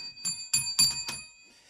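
Bell struck during a radio show, giving a few quick bright metallic rings spaced about a quarter second apart, then fading away with no talk over them.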